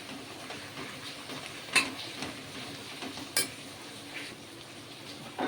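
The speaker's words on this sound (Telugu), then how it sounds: "నూనెలో టమాటా తొందరగా ఉడికిపోతుంది" Two tomatoes fry in hot oil in a pan while being stirred: a soft, steady sizzle runs underneath, and a few sharp clinks of the spoon against the pan punctuate it, close and fairly quiet.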